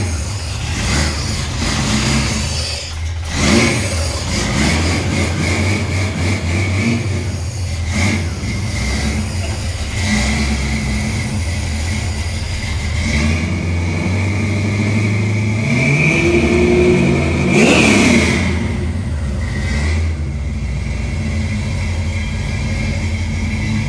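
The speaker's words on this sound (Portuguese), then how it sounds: "O ronco desse carro aqui é top, é muito bacana o ronco." The engine of a customized Ford Maverick roars at close range, idling rough and deep between repeated throttle blips, with sharp revving surges early on and again later.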